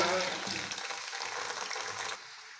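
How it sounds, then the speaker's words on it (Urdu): Three finely chopped medium onions go into a cup of hot oil on the stove for aloo methi gosht, a dense frying sizzle that drops off near the end, with no talk. "یہ آئل جو ہے چولہے پہ گرم ہو رہا ہے، اس میں ابھی ڈالوں گا میں پیاز"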